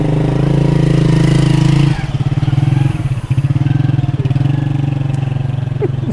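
A motorcycle with a Yamaha R15 V2 fuel-injected engine converted to EFI runs at a steady idle, a loud close throbbing hum that turns pulsing and slightly uneven partway through, with faint talk in the background.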